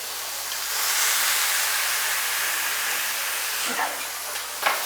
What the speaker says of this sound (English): all of the frying and the grilling